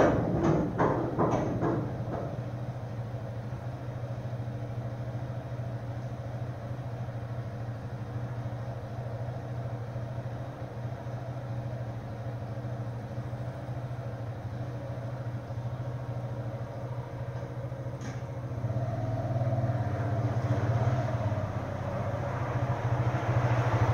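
A KTM 690 motorcycle idles steadily while being maneuvered inside a cramped shipping container, a low continuous engine hum with a brief shuffle near the start and a slight rise in rumble toward the end.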